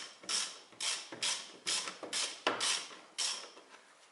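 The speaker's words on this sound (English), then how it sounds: "I take my 12 mm socket, and I start to fasten these bolts." A ratchet with a 12 mm socket tightens bolts on a rear stabilizer bushing of a 1991–2002 Toyota Corolla, giving about eight repeated close creaking, clicking strokes in an uneven rhythm, with no talking.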